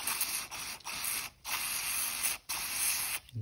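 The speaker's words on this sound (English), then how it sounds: "I want to get up in all these little holes" Bursts of carburetor cleaner spray hiss close by into a lawnmower carburetor, four or five sustained blasts separated by brief pauses, with no voices.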